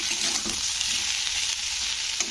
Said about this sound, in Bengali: তো আলুটাকে একটু নাড়াচাড়া করে দেবো মশলার সঙ্গে।